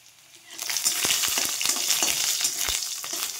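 Garlic cloves sizzling in hot oil in a pan, a steady close crackling fry that swells in after a quiet start and holds throughout, with faint stirring clicks and no talk.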